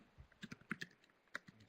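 A short run of computer keyboard keystrokes as an answer is typed. A handful of light, close clicks come at an uneven pace in a quiet room with no talking.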